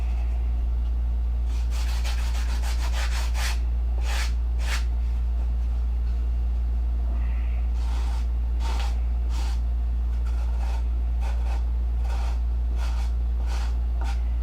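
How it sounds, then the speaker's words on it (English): Steady rhythmic scratchy rasping of hand sanding a foam wing, repeated strokes over a constant low hum, close by. "watch you sand for hours"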